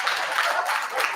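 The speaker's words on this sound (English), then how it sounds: "That is a confusing applause point." Studio audience claps in a short, even patter during a comedy talk show, brief and moderately loud with no voices over it.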